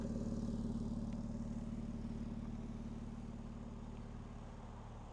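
A 2025 BMW X4 M Competition idles steadily through its standard quad exhaust with a low, throaty rumble, fairly quiet and continuous, with no voices.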